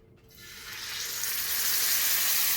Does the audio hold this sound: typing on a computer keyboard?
no